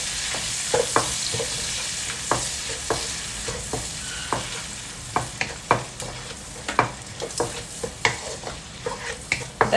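Chopped onions fry in coconut oil flavoured with mussels, giving a steady close sizzle broken by frequent sharp crackles and pops that build toward the end.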